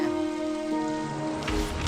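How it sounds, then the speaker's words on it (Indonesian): Steady rain falls continuously, an even wash of patter throughout, with a low tonal hum underneath and no voices. "Ini hanya hujan biasa seperti hujan-hujan sebelumnya."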